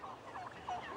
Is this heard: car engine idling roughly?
no